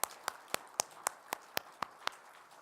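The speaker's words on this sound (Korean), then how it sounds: "우리 52주 찬양으로 우리 섬겨주신 우리 성가대에게 다시 한번 박수 드릴까요?" A church congregation claps for the choir at a Korean worship service: a short run of about nine evenly spaced, distinct claps, fairly sparse and quiet, as if only a few hands keep the beat.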